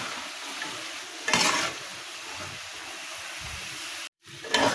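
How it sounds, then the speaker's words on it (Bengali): Salted taro stolons fry in a pan with a steady, soft sizzle, broken by two louder scraping bursts of stirring and one brief silence. "এবার নাড়াচাড়া নিয়ে দেবো, ভালো করে এভাবে নেড়ে নেড়ে আমি ভেজে নেব"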